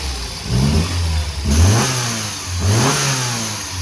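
A Lancia Fulvia car engine with dual carburetors, heard close up, revs in three quick blips, each rising and falling back toward idle.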